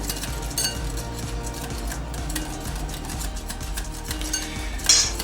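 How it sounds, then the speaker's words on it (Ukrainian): A spoon stirs flour into pancake batter in a bowl for crepes with chicken and mushrooms, making a steady, soft clinking and swishing rhythm, with one brighter clink near the end and no talking. "Трошки муки і розмішуємо до однорідної маси."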